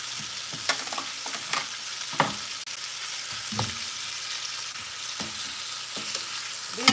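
Beef neck bones sear in a hot pan with a steady close sizzle, broken by scraping and stirring knocks at irregular intervals.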